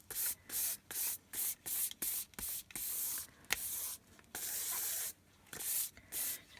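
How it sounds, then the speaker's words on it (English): Water is sprayed onto a sheet of paper for mark making in painting, about a dozen short, hissing bursts from a spray bottle, each pumped separately with brief pauses between them, close by and quiet. "just tiny little spray of water"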